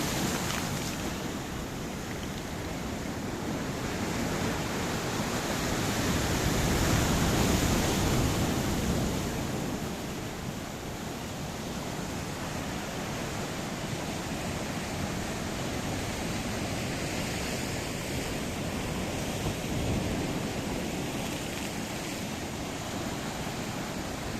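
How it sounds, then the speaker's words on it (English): Mediterranean Sea waves rolling onto the shore at Paphos, Cyprus, a steady broadband wash of surf with wind over the microphone, swelling slightly midway, with no voices. "This blue Mediterranean Sea certainly wants to lick the living daylights out of downtown Paphos."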